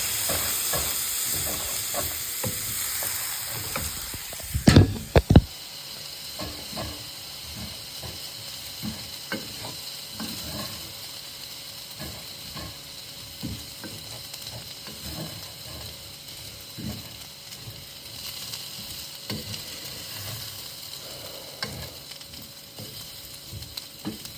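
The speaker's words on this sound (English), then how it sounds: "Now you gotta stir it." A spoon stirring pork fried rice seasoned with soy sauce and garlic powder in a frying pan: continuous soft sizzle with repeated close scraping and clicking strokes, a louder clatter early on, no voices.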